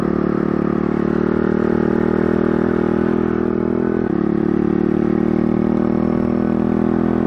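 A mini dirt bike motorcycle engine runs steadily while riding, a loud, close, continuous buzzing drone with faint clattering and no real change in pitch throughout.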